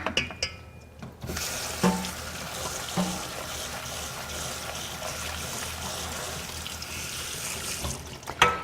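Running tap water pours over canned black beans in a colander as they drain and rinse, a steady close splashing stream with a couple of small clinks, no talking.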